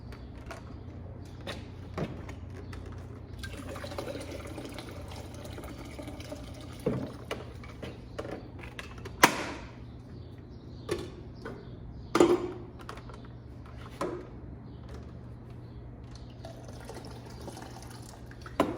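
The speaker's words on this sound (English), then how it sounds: "I feel like I'm pouring tea in Japan" Liquid like tea is poured slowly and gently, with soft trickling, drips and small clinks of vessels over a steady low hum, close and quiet throughout.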